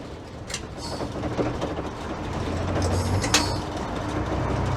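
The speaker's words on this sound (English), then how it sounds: "A bit of a rev blip on the downshift is apparently the thing to do." A Leyland Super National bus on the move, a steady rumbling diesel drone with a rise and slight rev swell as it shifts down, mixed with body rattles and mechanical clunks.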